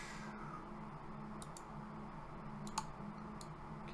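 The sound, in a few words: mouse clicking in Mod Organizer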